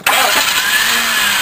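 A Chevy K5 truck engine cranks briefly and catches right away, settling into a loud, steady run close to the microphone.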